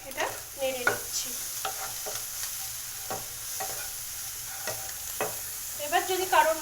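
Salted egg bhujia being stirred in a pan, a soft sizzle beneath repeated scraping strokes of a utensil at an uneven pace, close and fairly quiet, with a few sharper clinks near the end.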